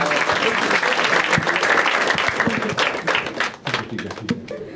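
Audience applause at a Marathi stand-up comedy show, loud dense clapping from a crowd that thins and fades toward the end.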